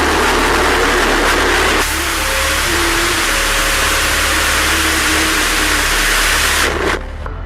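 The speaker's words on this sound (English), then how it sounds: "We just made history again by testing an engine 10 times more powerful than Stardust." A bluShift Aerospace rocket engine, ten times more powerful than its earlier Stardust engine, roars during a static test firing: a loud broadband blast that starts abruptly, holds steady for several seconds, then cuts off.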